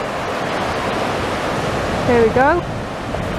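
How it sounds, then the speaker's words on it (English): Incoming tide surf on a beach near Blackpool South Pier makes a steady broadband rush and wash, loud and close, while someone briefly speaks over it. "the tide is coming in"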